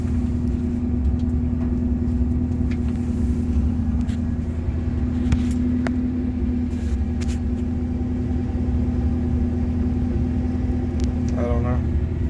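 A 1988 Ford F-150 with the 5.0 engine idles with a steady, close rumble, and the running note holds evenly throughout. The truck has a running fault. Speech is faintly present.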